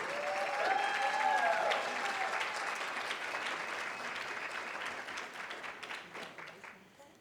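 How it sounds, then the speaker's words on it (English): A ceremony audience at a brunch and induction event applauds and cheers, with a dense wash of clapping that fades gradually toward the end while a voice carries over it. "all y'all cheering"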